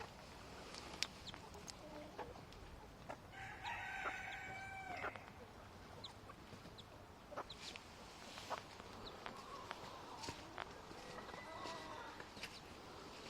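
Sebright chickens cluck in a busy coop while a rooster lets out a clear crow partway through, with other bird calls and scratchy rustling scattered around it.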